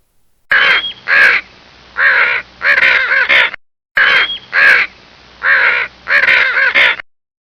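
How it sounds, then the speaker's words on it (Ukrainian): Crows caw in a repeated series of harsh, nasal calls in groups of two or three, loud and close, with short silences between bursts and the whole sequence playing twice. "Це ворона."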